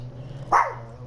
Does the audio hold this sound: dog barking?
yes